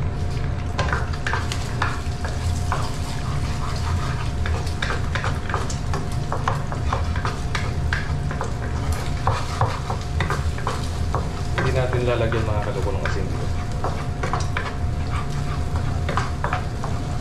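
Eggs sizzle and fry in a pan while being stirred, with steady crackling, scraping stir strokes and clinks through the whole stretch, and a person talks over the cooking.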